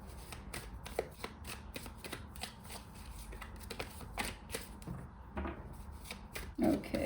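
Cards being shuffled over and over, a steady run of soft riffling flutters and taps, close by with no voices.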